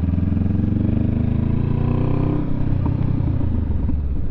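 A motorcycle engine runs loud and close, droning steadily and then shifting pitch around a gear change, with some mechanical clatter.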